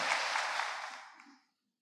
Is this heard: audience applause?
yes